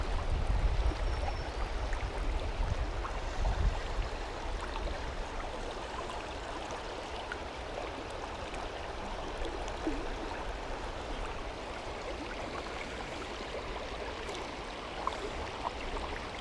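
A river stream at a trout fishing spot flows steadily with a continuous broadband rush and gurgle, close and moderately loud, unchanging throughout with no talking.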